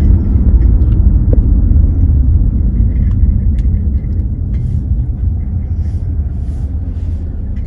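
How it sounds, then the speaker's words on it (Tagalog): Steady low road rumble of cars moving along a quiet street, a continuous near traffic drone that eases slightly toward the end, with no talk over it. "Maraming ding sasakyan ngayon guys,"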